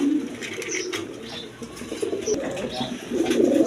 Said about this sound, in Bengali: এইখানে এক পেয়ার কবুতর আছে কোয়ালিটি সম্পন্ন কবুতর আপনার কিং কবুতর